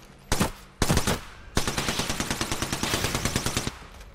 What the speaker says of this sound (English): It's an alternator.